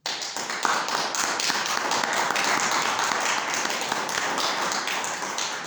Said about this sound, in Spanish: Un fuerte aplauso a nuestro Señor Jesucristo.